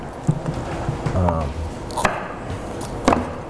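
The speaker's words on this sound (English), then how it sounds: "going to chop up this fresh asparagus" Fresh asparagus is chopped into bite-size pieces on a kitchen board, with a few sharp knife strikes spaced irregularly over low background noise.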